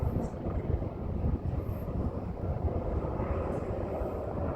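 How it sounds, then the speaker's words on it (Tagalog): Helicopter flying over Victoria Harbour in Hong Kong, a loud, steady broadband rumble and wind-buffeted drone heard from a distance, continuous throughout without any voices. "Ang helicopter ng Hong Kong."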